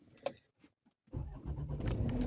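Keys rattle briefly before a car engine catches and settles into a steady, fairly close running rumble as the car starts to drive off.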